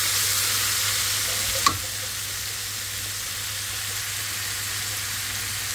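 Vegetable bhaji, made with sweet pumpkin and gourd in fish oil, stir-frying in a pan with a steady, close hiss of sizzling oil and a single brief clink near the start, and no talking.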